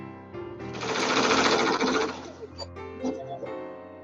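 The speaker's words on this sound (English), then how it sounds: "Now what I'm doing is sewing on each edge of this and leaving a space in the middle." A sewing machine stitches along the edges of fabric for a face mask, a steady close motor whir running for about two seconds, then tapering into a few short bursts as stitching stops and restarts.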